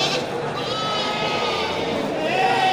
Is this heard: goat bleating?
yes